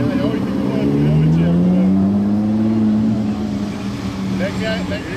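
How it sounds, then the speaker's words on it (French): A Ferrari 812 Competition Aperta pulls away in Monaco, its V12 rising steadily in pitch through a long, loud, close acceleration before easing off slightly. "On a le départ de la 812 Competition Aperta."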